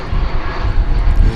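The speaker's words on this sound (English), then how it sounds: "this United Airlines Airbus A320 arriving from Denver" United Airlines Airbus A320 arriving from Denver at DFW Airport, a loud steady jet engine roar heard briefly and up close.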